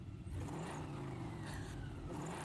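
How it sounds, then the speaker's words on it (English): A car engine revs under throttle with heavy intake noise and a low burbling exhaust, a continuous, fairly faint rumbling roar with no talking over it. "if I give it any throttle, any boom, it gets a big intake noise and a almost GT350R Chewbacca burble"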